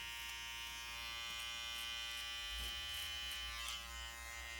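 Electric hair clipper buzzing steadily while cutting a taper at the hairline, close and fairly quiet, with a continuous hum and slight changes as it moves through hair.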